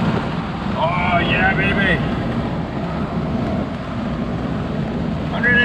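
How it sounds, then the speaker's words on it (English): A 1985 Proton Saga 1.5S accelerates in fifth gear to overtake, its engine a steady, loud drone mixed with rushing wind noise inside the cabin, and someone speaks briefly over it. "I'm gonna attempt an overtaking maneuver now. Fifth gear."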